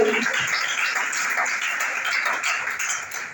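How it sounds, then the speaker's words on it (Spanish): Congregation at a church service applauding, a dense steady patter of many hands clapping close by, fairly loud and lasting the whole moment with a brief voice at the start. "Démosle ese aplauso al Dios Todopoderoso."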